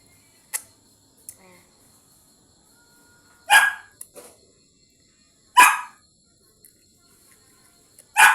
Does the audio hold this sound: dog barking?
yes